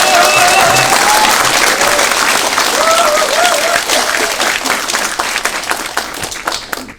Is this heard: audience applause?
yes